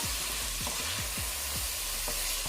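Ginger and garlic paste sautés in a pan for Jamaican rasta pasta, a steady close sizzle with repeated scraping stirs at an uneven rhythm, no talking.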